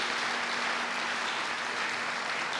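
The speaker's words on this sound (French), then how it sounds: "Non, acclamez plus fort parce que Jésus est..." Church congregation clapping in a steady, dense wash of applause that fills the whole stretch, loud and continuous with no voices on top.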